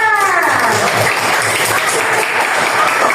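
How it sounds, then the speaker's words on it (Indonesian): A classroom of sixth-grade students claps together in a loud, sustained burst of applause that fills the room for several seconds, with a teacher's voice fading out at the start. "tepuk tangan untuk kita semua"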